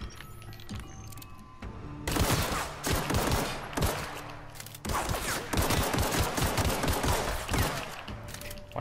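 Rapid gunfire in the video game The Outer Worlds, dense bursts of overlapping shots and impacts in two long volleys with brief quieter gaps, loud and close.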